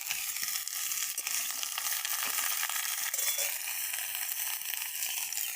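Bottle gourd, green chillies and tomato sizzling in a pan of hot oil alongside lightly fried papaya and pointed gourd for a fish curry, a steady crackling fry with occasional stirring scrapes, close and continuous.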